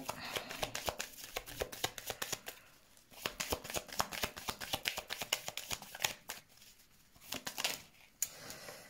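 Playing cards shuffled by hand at close range, dense rapid riffling bursts with brief pauses between shuffles, soft and steady throughout.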